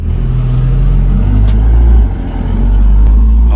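A 2013-era VW Mk6 GTI with 135,000 miles, a K04 turbo, a CTS turbo intake and a downpipe, its engine running loud and close with a deep, steady drone that surges briefly, with no voices.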